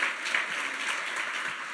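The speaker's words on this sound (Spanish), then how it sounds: "Denle ese fuerte aplauso al Rey" Congregation in a church service giving loud, sustained applause, a thick, even roar of many hands clapping at once, with no voices over it.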